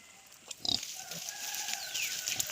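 A sow gives a few faint, brief grunts against a quiet outdoor background, with soft ambient noise between them.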